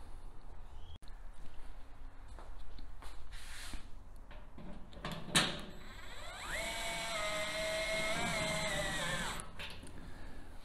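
A DeWalt electric screwdriver whirs for about three seconds with a thin, steady motor whine that spins up and cuts off, following quiet handling clicks and taps.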